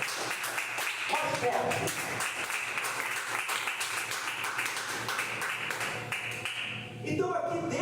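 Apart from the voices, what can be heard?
congregation applauding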